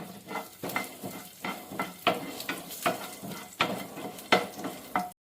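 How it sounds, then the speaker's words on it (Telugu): Chana dal, urad dal, cumin, mustard seeds, dried chilies and curry leaves crackling in hot oil for a tempering, with regular rhythmic scrapes of a spoon against the pan over a close, steady sizzle. "శనగపప్పు, మినప్పప్పు, జీలకర్ర, ఆవాలు, ఎండుమిర్చి ఇవన్నీ మంచిగా ఫ్రై చేసుకుందాం."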